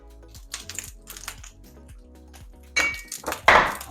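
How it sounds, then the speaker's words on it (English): Chicken fried rice with peas is tossed in a pan, metallic clatter and scraping in uneven bursts, growing louder with heavy clanks near the end. "Flipping this pan and there's little peas flying out"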